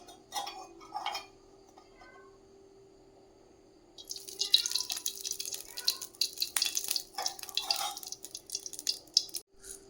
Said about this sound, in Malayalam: ഇനി അതിലേക്ക് കുറച്ച് എണ്ണ ഒഴിച്ചു കൊടുക്കാം